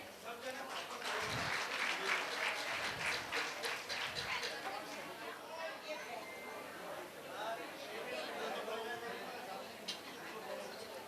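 Audience clapping at a women's association cultural program for Mahesh Navmi, a moderately loud wash of applause with some rhythmic claps early on, gradually thinning, with chatter and voices underneath.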